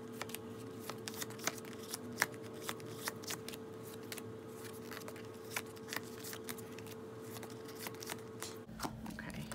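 A deck of tarot cards flipped through by hand, a quick series of soft papery snaps and slides repeating at an uneven rhythm, close and quiet over faint background hum.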